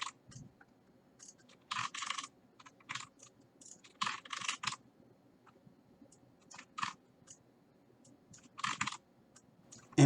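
Close keystrokes on a computer keyboard while C++ code is typed, coming in short clattering bursts of several keys with quiet pauses between them, alone without talk.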